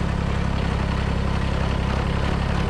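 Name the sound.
U-joint in drive shaft of Kubota BX tractor, snow blower raised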